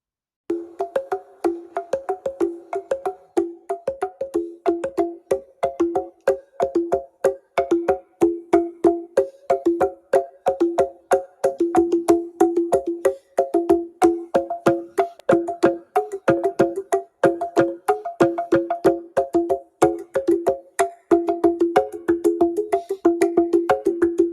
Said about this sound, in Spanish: uno llamado teponaztli, una especie de tambor de hendidura que suena así